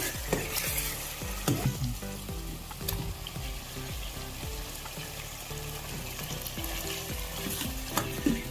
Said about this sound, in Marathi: आता आपण यात उकळलेले चिकनचे पीस टाकून देऊ